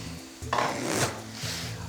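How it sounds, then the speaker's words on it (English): A metal utensil scrapes and stirs across the bottom of a hot pan while spicy lamb meatballs cook, a brief close scraping burst with light clatter over a low kitchen hum. "We're gonna bring some of that flavor off the bottom of the pan."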